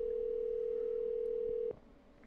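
A steady, loud single-pitch telephone tone sounds continuously while a call is placed, then cuts off abruptly near the end, leaving quiet background.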